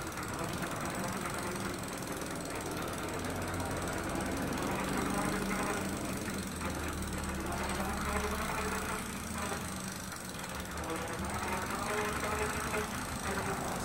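An eBike's motor hums and whirs steadily with a knocking, mechanical texture as the pedals are turned lightly by hand, continuous and moderately close throughout with no speech.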